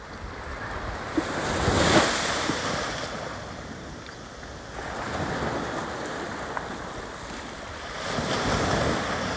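Ocean surf on a Hawaii beach with surfers out, waves washing in slow swells of broadband roar, rising and falling about every few seconds, mixed with wind against the microphone and no talking.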